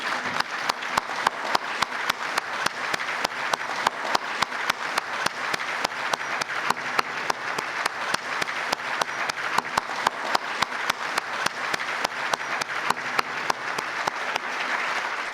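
Sustained applause from an audience at a Diwali festival celebration in Mauritius, a dense, even clatter of many hands lasting the full span with no voices over it.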